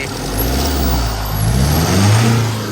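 A Tata truck engine revs loudly and close by, rising and holding its drone over a few seconds, with no talking.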